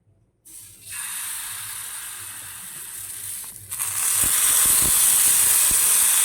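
Rice-flour batter is poured onto a hot oiled pan for patishapta, with a sudden hiss that swells into a louder steady sizzle and a few small taps near the end.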